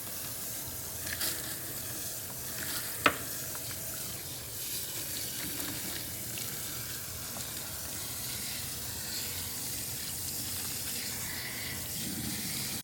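Water runs steadily as hair is rinsed at a salon, a continuous soft hiss and splash with one brief clack, heard close and alone.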